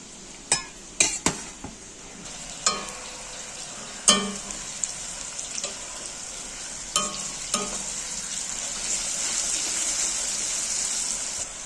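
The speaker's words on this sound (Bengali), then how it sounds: "পেঁয়াজটা ভাজতে ভাজতে টমেটো পেস্ট দিয়ে দিলাম। সব একসাথে নেড়ে চেড়ে ভাজতে থাকবো।" Onion and tomato paste fry together in a pan with a steady, close sizzle, while a spoon stirs and taps against the pan in several sharp clinks.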